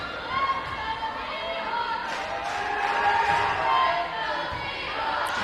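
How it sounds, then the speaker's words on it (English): A crowd at a high school volleyball match between the Huskies and Canton cheers and chatters in a gym, a steady rumble of voices with a few louder swells. "The Husky crowd is into it as well."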